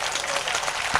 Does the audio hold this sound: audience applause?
yes